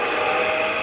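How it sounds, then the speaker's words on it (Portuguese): A hair dryer blowing on wet watercolor paint, a steady loud whooshing drone with a constant motor whine, close and continuous with no talk. "vamos usar o nosso querido secador"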